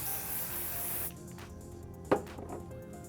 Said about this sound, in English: So I'll spray the working spray.